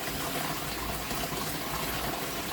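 A garden hose left trickling water into a fish pond gives a steady, soft, close hiss and burble of running water that never pauses.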